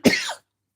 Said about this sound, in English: Sorry, my cough's coming back.